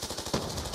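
Gunfire in Black Ops II multiplayer, a sharp shot landing mid-clip over a dense, steady bed of game audio and weapon noise, short and fairly loud.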